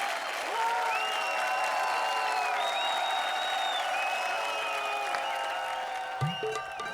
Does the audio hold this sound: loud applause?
yes